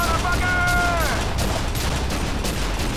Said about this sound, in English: Semi-automatic fire.